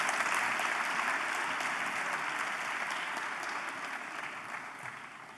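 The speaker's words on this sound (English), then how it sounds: "give them a round of applause." A town hall audience gives a round of applause, dense steady clapping from many hands sustained throughout and slowly fading toward the end, heard alone without talk.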